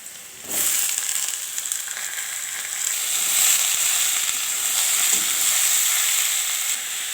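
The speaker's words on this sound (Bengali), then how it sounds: "পেঁয়াজটা ভাজা হয়ে গেছে। এখন এই ঝিঙেগুলো দিয়ে দেব।" Loud, steady sizzling of ridge gourd frying in a hot pan with fried onions, with a burst as it goes in and occasional stirring scrapes.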